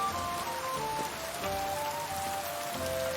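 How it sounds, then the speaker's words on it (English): Steady rain patters on surfaces in the video game Kingdom Come Deliverance 2, a soft continuous hiss of drops with faint tonal music lines running underneath, no voices. "Oh, rain."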